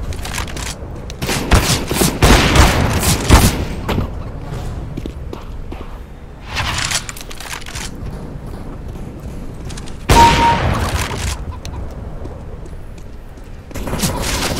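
Sniper and rifle gunfire in the video game CS:GO crack in loud bursts and single shots, with busy clattering volleys and quieter gaps between them.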